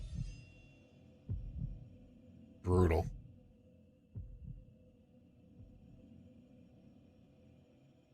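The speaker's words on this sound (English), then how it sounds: "I forgot about the heartbeat sound effect here" A low, throbbing heartbeat sound effect plays in the Final Fantasy VII video game during a tense VR mission. Several soft, deep thumps sound under background game noise and brief talk, with a louder burst in the middle.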